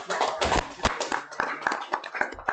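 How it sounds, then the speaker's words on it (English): Crowd applause for cheerleaders at a high school football preview event, with scattered claps and taps over a busy room, voices mixed in. "Ladies and gentlemen, give them another round of applause right there."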